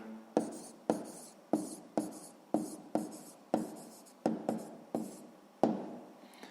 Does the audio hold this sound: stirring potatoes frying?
no